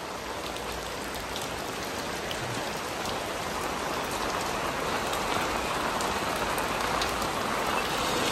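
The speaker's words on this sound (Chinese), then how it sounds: "这两三天都是下大雨，很大的雨" In an urban village in Xi'an, heavy rain falls steadily as a dense, even hiss of drops hitting surfaces, close and constant throughout, with no voices.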